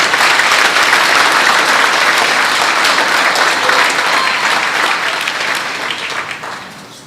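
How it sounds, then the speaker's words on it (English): A room of dinner guests at a sports showcase welcome event applauds loudly and continuously, the dense clapping holding steady for several seconds before gradually tapering off. "I'd like to have another round of applause for Mr."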